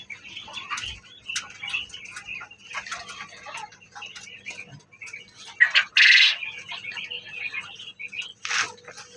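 Small quail kept as breeding parents on an indoor farm floor give scattered chirps and short calls, with a couple of louder, brighter bursts standing out above a low background hum.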